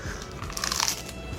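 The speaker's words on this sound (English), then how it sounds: "Fresh cabbage. You got your crunch. You got your double crunch with your toast." Close, crisp crunching as a rabbit bites into fresh cabbage and toast, a few sharp bites clustered in the middle over a quiet background.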